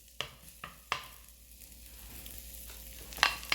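Rigatoni in a pan with saffron and zucchini sizzles softly while a utensil stirs it, giving sharp scraping clicks at irregular moments and a louder clatter near the end, close by and with no talking.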